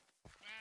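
A sheep in Minecraft lets out one short, faint bleat after a brief moment of quiet.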